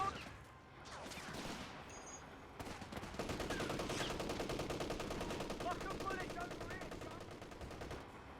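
Gunfire in the Company of Heroes 3 strategy game, dense rapid machine-gun bursts and rifle fire rattling continuously, with brief talking near the start.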